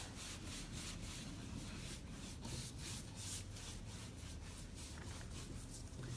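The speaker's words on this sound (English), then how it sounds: "I recommend that you wax first. So put a coat of clear wax on here." Clear wax brushed over a painted kitchen cabinet, a steady close bristle rubbing with repeated strokes and no talking.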